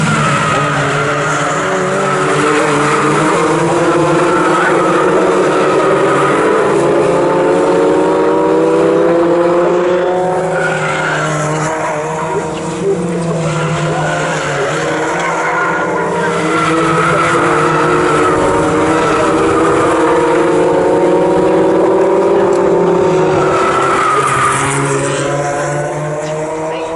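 Fun Cup race cars at Snetterton circuit roar past in a continuous loud pack, engine notes rising and falling with overlapping revving tones throughout, no voices heard.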